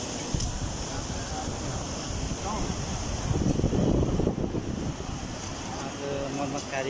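The Deumai river in flood rushes with a continuous roar of turbulent water that swells briefly midway, while voices are heard faintly over it.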